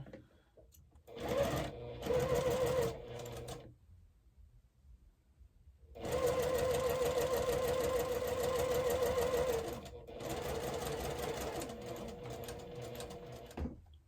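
A sewing machine stitches a quilt block for a pressed-flowers pattern, running in two loud steady bursts, a short one early and a longer continuous run of several seconds, separated by a quiet pause and no talk.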